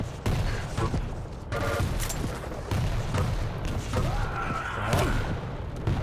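Gunfire and booms from an online competitive shooter match, a shotgun blast among several sharp shots and thuds layered over continuous game noise, with a brief rising whine near the end.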